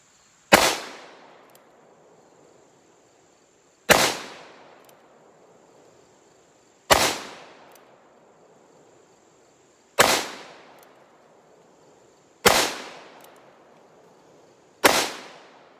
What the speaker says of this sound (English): First shots ever for me out of a single action revolver in a large caliber.